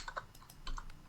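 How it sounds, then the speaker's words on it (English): Brief close tapping on a computer keyboard, a handful of quick irregular keystrokes in about a second, alone without speech. "If I could type."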